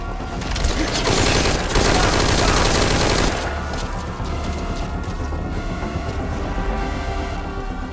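Heavy gunfire exchange in Metal Gear Solid V: Ground Zeroes, with a loud dense burst of shots in the first few seconds that thins into a steadier rattle of gunfire and mechanical game sounds.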